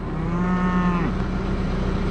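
Cattle in a corral give one long, loud, low moo that fades out, then quieter outdoor background with no voices.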